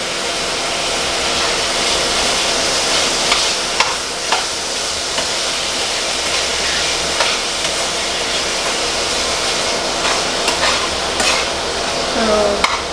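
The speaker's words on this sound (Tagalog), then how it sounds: "i-fry nyo lang yung pork hanggang sa medyo luto na siya" Pork frying in a pan for a kimchi dish sizzles loudly and continuously at close range, with scattered scraping stirs and small pops over the steady hiss.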